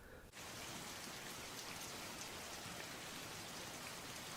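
Steady, dense rain hisses across a wide band in an animated Pokémon episode, beginning abruptly after a brief quiet moment and continuing loud and unbroken with no voices.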